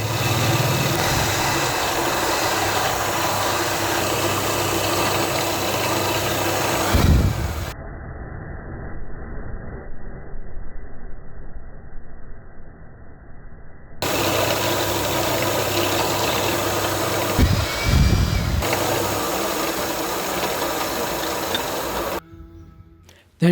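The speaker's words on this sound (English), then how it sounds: "Now we need to drill 3 holes with 7/16 bit." A drill fitted with a sharpened 7/16 bit bores holes in hard rosewood, giving a steady, close motor drone with grinding texture that cuts out briefly midway and then resumes.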